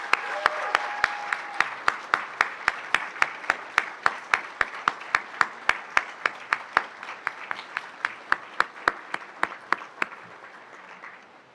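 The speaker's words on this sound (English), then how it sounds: "Everyone, please give our graduating students a warm round of applause." Rhythmic, evenly spaced claps for graduating students at an awards event, a steady beat of sharp hand claps over a softer wash of crowd applause, fading slightly toward the end.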